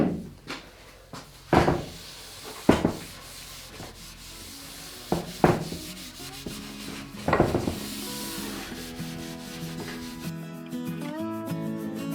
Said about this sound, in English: Then buff it out.